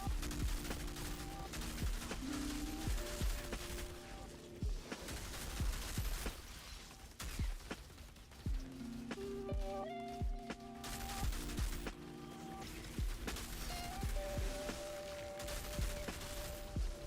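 Pistol shots in the video game Outriders fire in rapid bursts with short pauses, sharp and close, over game music and effects.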